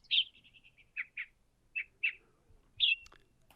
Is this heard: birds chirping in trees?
yes